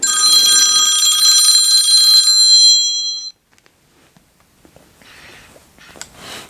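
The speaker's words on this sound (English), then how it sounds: "Oh, someone's phoning me." A phone rings loudly and continuously for about three seconds, a bright repeating electronic tone, then stops, leaving faint handling clicks and rustles close by.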